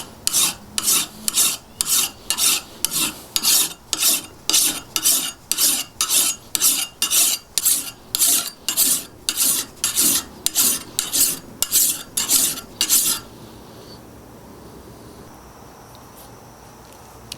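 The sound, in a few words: honing an old broad axe edge with a hand file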